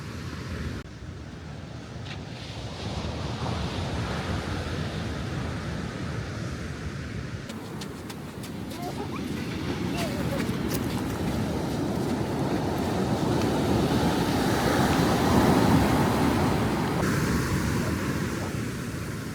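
Waves roll and wash steadily onto a deserted New Zealand beach in winter, with wind buffeting the microphone throughout and the surf swelling slightly louder near the end.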